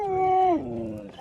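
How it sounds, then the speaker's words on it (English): Alaskan Husky sled dogs at a winter festival that offers sled rides howl together, a long, steady, close howl that drops lower partway through and then trails off. "They're Alaskan Huskies."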